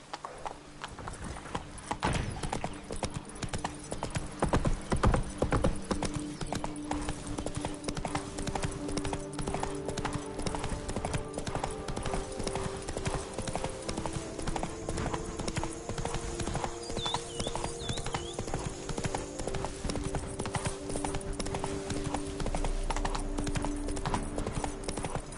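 The horse Roach in The Witcher 3 trots with continuous rhythmic hoof clip-clops, with a brief whinny and ambient game sounds underneath.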